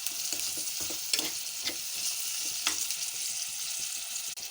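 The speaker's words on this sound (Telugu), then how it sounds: "ఇప్పుడు ములక్కాడ ముక్కలు వేస్తున్నాను." Drumstick pieces dropped into browned frying onions and stirred, a close crackling sizzle broken by repeated scraping and clattering strokes of a spatula in the pan.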